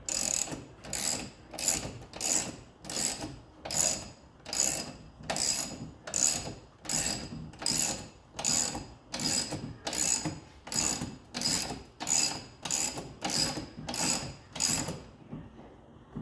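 A car jack is worked by hand to lift a car for a tire change, with about seventeen evenly spaced ratcheting clicks in a steady rhythm, close and loud, and then the clicking stops.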